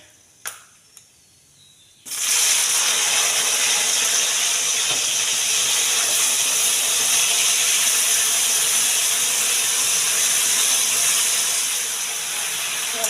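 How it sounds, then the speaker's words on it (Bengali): Jujubes (kul) hit hot oil for a pickle, and after a couple of light taps a loud, sudden sizzle bursts up and holds as a steady, close hiss. "তো তেলটা আমার হয়ে গেছে, এবার আমি কুলগুলোকে ওতে দিয়ে দেব।"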